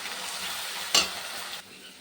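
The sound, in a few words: spice masala frying in pan for katla fish kalia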